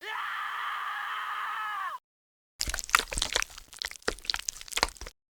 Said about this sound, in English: we hear him scream out in pain